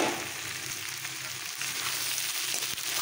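Carrots, capsicum and peas frying in a pan for a carrot, pea and capsicum sabzi, giving a steady, close sizzle with occasional stirring scrapes.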